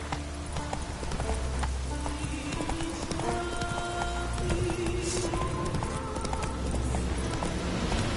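Roach the horse trots steadily in The Witcher III, a continuous stream of hoof clip-clops over a dense backdrop of game music and ambience, with brief voice moments mixed in.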